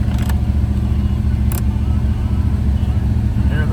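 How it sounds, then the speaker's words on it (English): A 1977 Chevrolet Monte Carlo that has sat unused for many years runs with a loud, steady, deep engine rumble close by, with a couple of brief higher noises over it. "We're gonna start up our Chevy Monte Carlo here"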